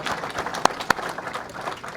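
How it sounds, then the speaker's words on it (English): Crowd applause at a baseball Hall of Fame induction ceremony honoring past inductees, a steady patter of many hands clapping with a couple of sharper, louder claps standing out near the middle. "please stand for a round of applause as well, please"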